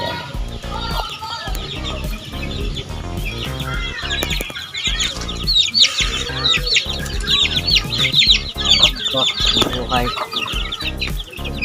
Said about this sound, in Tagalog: Ilam na ni Jerry yung kanyang mga sisiw